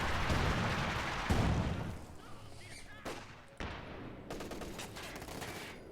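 Gunfire from Fallschirmjäger infantry in a World War II strategy game, a dense crackling fusillade of rifle and machine-gun shots that stays loud throughout, with brief gaps between bursts.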